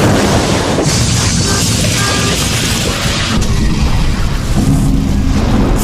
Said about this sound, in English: Four more blasts tear the rear of the ship apart.